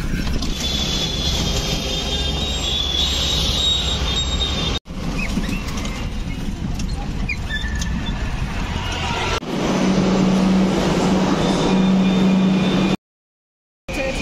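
A metro train running, with a loud steady low rumble and rolling wheel noise, occasional squeals and a brief dropout midway, close and continuous with no voices.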